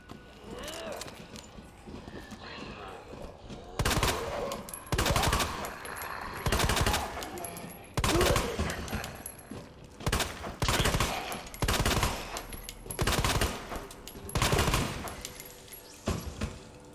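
Repeated handgun shots from the Matilda in the video game Resident Evil 2, sounding as loud sharp bursts fired in quick clusters, with several volleys spread across the stretch over a steady game background.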